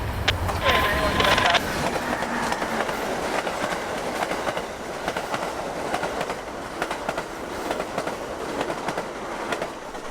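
A train rumbles past with continuous clickety-clack from the wheels on the rails, loud and close, with a brief squeal early on, heading out of Tampa toward Lakeland, Florida.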